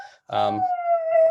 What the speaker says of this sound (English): Sorry about my dog crying in the background.